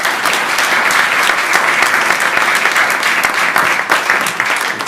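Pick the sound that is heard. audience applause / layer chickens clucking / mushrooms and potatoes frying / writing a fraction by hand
audience applause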